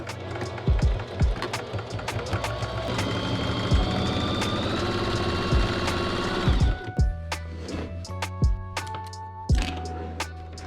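A sewing machine runs steadily for about seven seconds, stitching closed the hems of cargo pants made from old overalls, then stops, leaving a few separate handling clicks and knocks.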